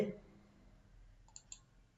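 Two faint, sharp computer mouse clicks come a quarter second apart while using the Edit menu in LibreOffice Writer, over quiet room hiss after a brief voice at the start.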